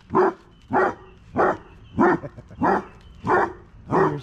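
A dog, likely a female, barks excitedly at other dogs in a steady run of seven sharp, evenly spaced barks, each loud and close with brief pauses between.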